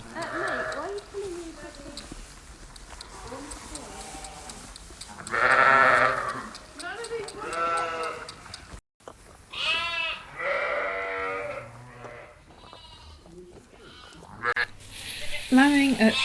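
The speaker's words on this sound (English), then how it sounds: "sound of a lamb bottle feeding." A lamb feeding from a bottle makes close, soft sucking and slurping sounds mixed with short bleats and snuffles in an irregular rhythm, with a brief gap partway through.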